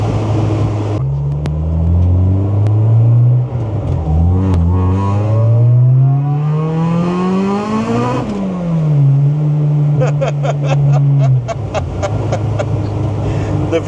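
A supercharged Honda B18C engine revs hard, the pitch climbing in sweeping steps as VTEC engages and then boost builds, dropping back and then rising again, loud and close, with a run of rapid ticking pops near the end.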